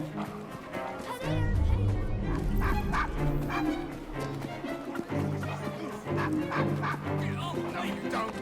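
A dog in the video game Assassin's Creed Syndicate barks amid a dense, busy game soundscape of music and ambience, the barks mixed loud and close under steady background noise.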